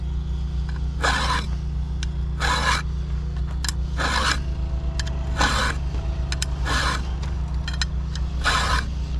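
A chainsaw file rasps across the teeth of a saw blade being sharpened, seven evenly spaced strokes sounding loud and close over a steady low hum, with no talking.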